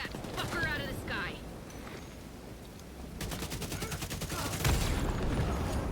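Rapid automatic gunfire from The Division 2, fired at an aircraft, crackles in dense bursts over a busy game soundscape, growing heavier toward the end, with a voice talking over parts of it.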